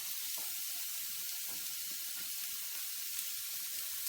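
Squash goes into a camp pot of vegan pineapple couscous over a wilderness stove, setting off a steady, close sizzle and hiss with faint scraping, no talking.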